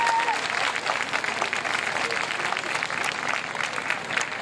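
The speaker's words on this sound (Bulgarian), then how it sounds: "Моля за вашите аплодисменти." An audience at an award ceremony for folk song ensembles claps in a steady, full round of applause that fills the whole stretch.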